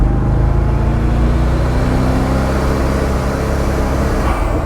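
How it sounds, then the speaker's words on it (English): Vector W8 supercar with twin turbos and a 3-speed automatic, accelerating hard as the turbos spool up; a loud, steady engine roar with rushing noise that holds throughout, with no talk. "The car doesn't really feel incredibly fast until the turbos start to spool."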